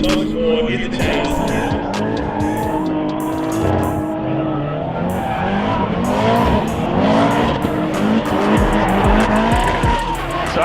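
Nissan 350Z drift cars sliding around a track, tires squealing and skidding over loud engine roar, continuous and close, with revs rising and falling as the cars chase each other.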